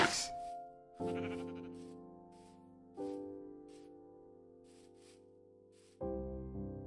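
Sheep in the video game Minecraft bleat in four separate wavering calls, each starting with a sharp onset and fading out, clear and alone with no talking.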